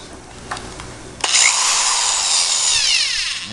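A power drill starts up about a third of the way in and runs steadily while driving screws into wooden model railroad loop benchwork, after a few faint taps, loud and close.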